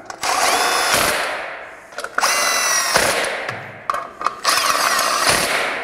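A power tool driving screws on a non-turbo Polaris RZR during belt-protection work, running in several loud, close bursts of whirring with brief pauses and short stops between them.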